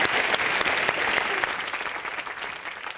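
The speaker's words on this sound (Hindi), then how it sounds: "जोरदार तालियां" Studio audience on a comedy talk show breaks into vigorous applause, a dense, even roar of clapping that stays strong for the whole three seconds with a slight easing toward the end.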